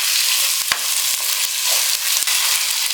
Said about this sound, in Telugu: ఈ టమాటాలు కొంచెం వేగనిద్దాం